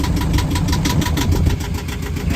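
Yanmar inboard boat engine on a sailing boat, loud and close, running at a steady rev with an even rhythmic chugging throb and no talk over it.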